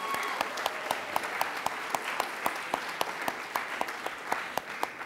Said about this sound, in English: we need to give one more huge, resounding round of applause to the faculty and staff of the UC Berkeley Labor Center